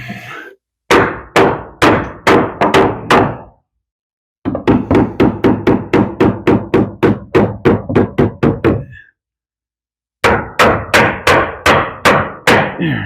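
Hammer driving nails into joist hangers on wooden trusses, loud close blows in quick rhythmic bursts of about six to fourteen strikes, separated by short pauses.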